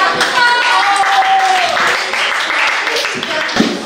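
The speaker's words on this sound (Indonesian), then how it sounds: "Tepuk tangan untuk kita" Schoolchildren applaud together in an Indonesian primary mathematics classroom, a dense, steady wash of clapping lasting a few seconds with a voice briefly rising over it.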